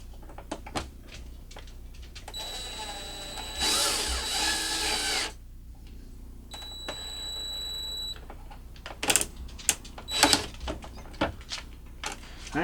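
A power drill or driver whirs in short bursts while a wire is tightened into a terminal during a cell signal booster install in an RV, mixed with clicks, knocks and handling noises, close and fairly loud.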